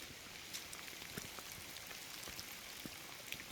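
Light rain patters in the Monteverde rainforest, a soft, steady hiss with scattered faint drips tapping on leaves and surfaces close by.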